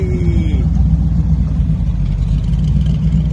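A De Tomaso Pantera, the actual car used in Fast Five, idles with a deep, loud, steady engine rumble up close, low throb holding evenly after a brief rise at the start.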